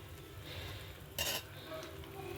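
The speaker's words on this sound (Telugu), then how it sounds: "ఇంకా ఒకసారి కలిపేసుకుందామండి" A spoon scrapes and stirs wheat rava halwa with jaggery and ghee in a pan, a soft quiet mixing with one brief, sharper scrape midway.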